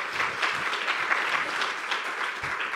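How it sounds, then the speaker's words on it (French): Audience applause after a closing speech at a colloquium, a steady dense wash of clapping at moderate level that holds throughout with no voices over it. "Merci beaucoup, on vous applaudit."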